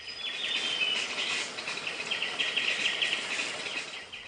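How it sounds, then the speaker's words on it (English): Chestnut-crowned laughing thrushes call in a Laotian rainforest, a series of bright, repeated chirping phrases over a steady insect-like hiss, moderately close and continuous, with no voices. "a series of melodious, laughing calls that are often heard before the birds are seen"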